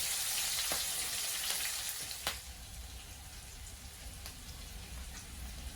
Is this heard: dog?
no